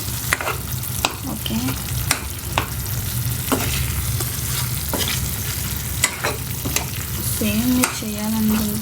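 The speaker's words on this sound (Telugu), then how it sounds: "సో ఇప్పుడు మొత్తం మిక్స్ చేసుకుందాం." Prawn masala curry being stirred in a frying pan, steady sizzling under regular scraping strokes of the spoon, close and fairly loud, with a brief word spoken near the end.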